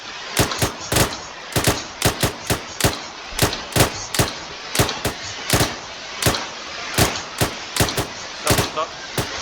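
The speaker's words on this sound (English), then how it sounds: "Section rapid fire front." Rifle section firing rapidly during Royal Marines 45 Commando training, a dense stream of sharp, loud cracking shots in irregular bursts, several overlapping, continuing throughout.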